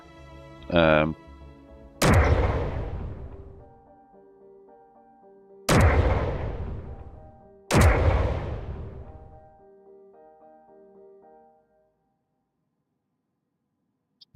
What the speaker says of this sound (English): I've made this ridiculous artillery cannon thing.